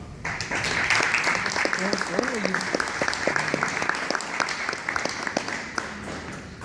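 An audience at an evening conference warmly applauds a guest speaker. Brisk clapping runs throughout while a voice speaks briefly over it near the start.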